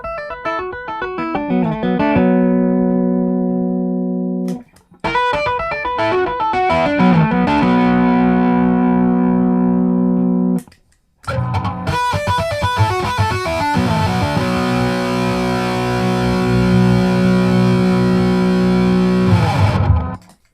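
A Chapman Stick heard through its bridge pickup, playing sustained distorted chords and bass lines in three phrases separated by brief gaps, loud and close with no talking.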